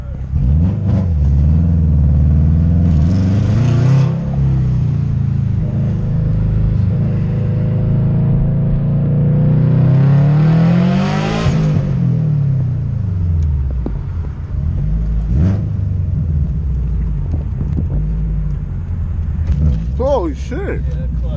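Exhaust note of a 380 whp Subaru WRX STI on a night drive, a steady loud engine drone rising and falling as it accelerates, with people talking over it inside the car.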